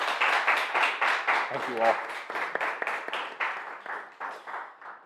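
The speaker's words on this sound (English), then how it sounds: "If we could give Michael a round of applause, please" A virtual lecture audience gives a round of applause after an art talk, with clapping that starts fuller and thins and fades toward the end while someone speaks briefly over it.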